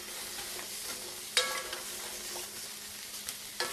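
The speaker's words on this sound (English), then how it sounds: "So we just make sure that you stir it so that it doesn't scorch." Eggplant and mushrooms fry steadily in a pan with a soft continuous sizzle, broken by a few sharp scrapes and knocks of a stirring utensil against the pan.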